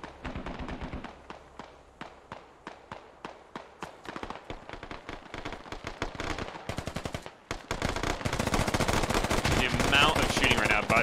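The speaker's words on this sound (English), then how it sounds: "The amount of shooting right now by the US" Machine gun and rifle fire in a video game battle among tank traps: rapid bursts of close, sharp shots start as spaced cracks, then build into dense, continuous loud gunfire. A voice speaks briefly at one point.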